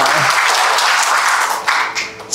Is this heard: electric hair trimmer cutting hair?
no